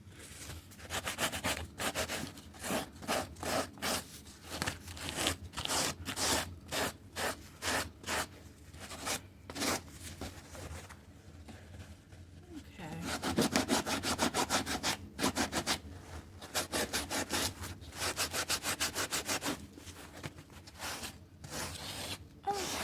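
Sandpaper rubbing over a fedora hat in bursts of rapid back-and-forth strokes, a rough scratchy abrasion that pauses briefly between passes and continues steadily near the end, close and moderately loud with no talking.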